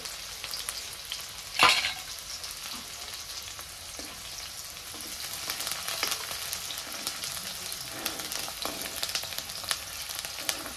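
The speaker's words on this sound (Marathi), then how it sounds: "ह्यातच आता मी बारीक चिरलेला कांदा टाकून घेते।" Finely chopped onion and curry leaves crackle in a generous amount of oil for a misal amti. One sharp clank stands out early, then a fainter steady fry continues with light stirring and no voices.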